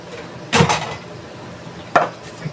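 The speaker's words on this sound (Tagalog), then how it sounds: "Tapos pichay naman ang hihiwain ko." A knife chops through pechay (bok choy) on a board, two crisp close strokes about a second and a half apart, the first a quick double hit, with quiet pauses between.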